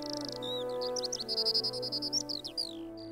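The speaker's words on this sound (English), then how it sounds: "we can continue to hear them singing on the Mendip Hills" A Eurasian skylark on the Mendip Hills sings a rapid, fluttering run of high chirps and trills over a low steady background hum, short and fairly faint.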